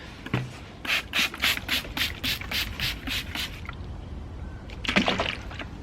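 A plant pot on a balcony is scrubbed clean in a run of rhythmic rasping brush strokes, followed by a short pause and one more brief burst, close up with no talk.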